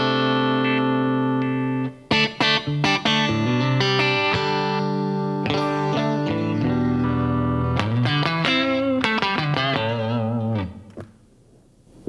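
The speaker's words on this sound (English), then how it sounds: "crunch tone is basically a clean sound with a little bit more dirt or distortion on it" A distorted electric guitar plays a mix of sustained chords and choppy strums with a gritty, slightly crunchy edge, fading out at the end.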